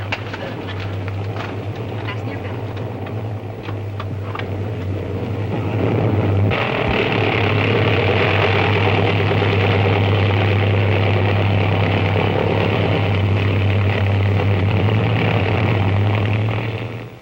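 Propeller airliner engines droning in flight, as heard inside the cabin in a 1949 film noir: a steady low hum that swells louder partway through and stays even, with faint talk underneath.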